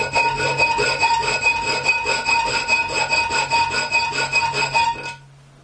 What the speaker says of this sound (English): This was then marked out and filed square to match the bushing.